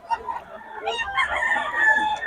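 A two-year-old pumpkin gamefowl rooster crows nearby, one drawn-out, raspy call rising and holding to the end.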